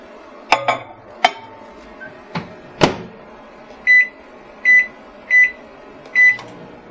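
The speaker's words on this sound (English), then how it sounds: "cover it with plastic wrap, and microwave for about 5 minutes or until your vegetables are tender" A microwave oven, holding a plastic-wrapped bowl of vegetables, gives four evenly spaced beeps after a few sharp clicks and knocks of the door and buttons, close and clear with no talking.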